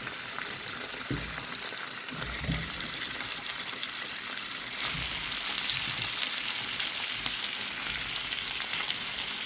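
Chicken with softened onions frying in oil for a chicken gravy: a steady, close sizzle with bubbling and hissing throughout, briefly intensifying from the middle, with no voices.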